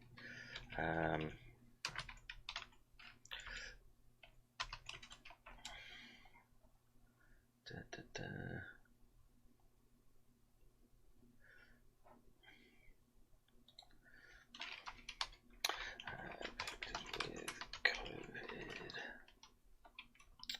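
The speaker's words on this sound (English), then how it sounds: "I suck at typing this morning." Quiet bursts of keyboard typing, clattering in short runs separated by pauses, with faint clicks and a low background hum between.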